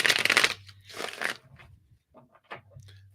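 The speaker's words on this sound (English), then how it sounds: "Just shuffle the cards here." Tarot cards shuffled by hand in two quick riffling bursts, followed by softer taps and rustles of the deck being squared, close and alone without talk.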